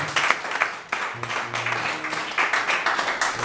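A church congregation breaks into sustained applause, dense clapping that surges and swells throughout, with a low voice faintly under it.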